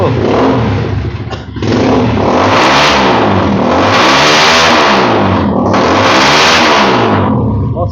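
YCR Black 1050 motorcycle engine revved hard up close, three loud sweeping throttle blips rising and falling over a rough idle, with a brief dip between the first and second rev.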